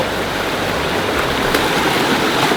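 A river flows steadily through a forest in Central Java, producing a dense, even rush of water that sounds close and continuous throughout, with no voices.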